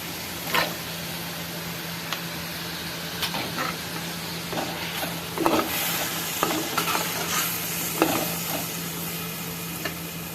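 Ginger and tomato sautéing in a pan for chana pulao, a soft, quiet sizzle with intermittent scraping and stirring clicks against the metal and a faint low hum beneath.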